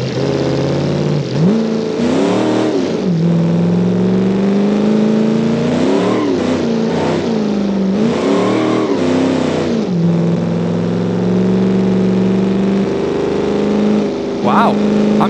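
Classic muscle car engine in the BeamNG driving game revving loudly, rising and falling throttle sweeps over a constant drone, with someone talking over the engine.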